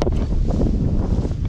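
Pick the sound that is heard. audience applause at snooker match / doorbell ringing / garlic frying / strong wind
strong wind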